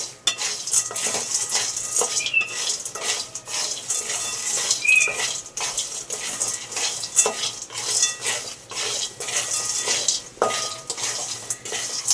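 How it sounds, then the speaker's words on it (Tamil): Peanuts dry-roast in a pan while a utensil stirs and scrapes them constantly, making a dense, close rattle of nuts against metal. It runs loud and without a break, and nobody talks. "வேர்க்கடலையை வறுத்துக்குவோம்."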